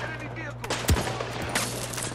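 Gunfire in the Battlefield 2042 video game: one sharp, loud shot stands out in a short burst of in-game noise, with faint background rumble and no clear talking.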